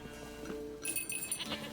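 A goat in The Witcher 3 gives a few short, nasal bleats in the latter half, close and clear, after a quieter opening.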